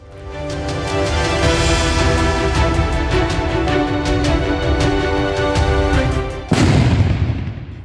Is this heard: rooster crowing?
no